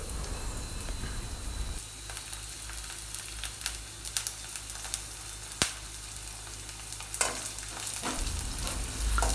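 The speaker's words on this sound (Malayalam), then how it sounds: "തേങ്ങക്കൊത്ത് കുറച്ച് ഇട്ട് കൊടുക്കുക അതിനുശേഷം നന്നായിട്ടൊന്ന് വഴറ്റി കൊടുക്കുക കുറച്ച് കറിവേപ്പില കൂടി ഇടുന്നുണ്ട്" Coconut pieces and curry leaves sautéing in oil for mutton curry, a continuous sizzle with crackling pops and intermittent scrapes of a spoon stirring in the pan, close and moderately loud.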